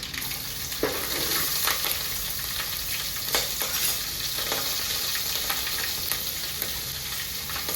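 Whole spices and a pinch of asafoetida sizzle steadily in hot oil for a royal winter khichdi, a dense continuous crackle with faint stirring clicks, close and alone without any talk.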